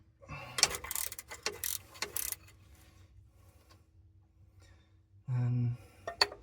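A ratchet fitted with a 17 mm socket loosens bolts on a broken-down vehicle, giving bursts of rapid metallic clicking up close, then a pause and one more short sequence of clicks.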